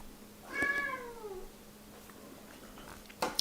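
A cat meows with a clear, drawn-out call that falls in pitch, then a short fainter chirp near the end, close by in a quiet indoor room.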